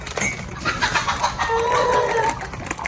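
Chickens cluck and squawk nearby, a busy overlapping chatter of several birds with no talking.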